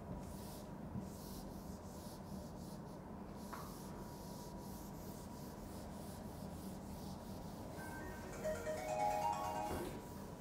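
Faint, steady rubbing of an eraser across a board during an electromagnetics lecture, a continuous soft scrubbing with no talk.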